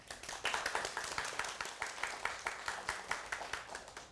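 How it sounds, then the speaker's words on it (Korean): Small audience at a real estate seminar claps quietly and rhythmically, the even beats sounding distant and soft without talk over them. "박수"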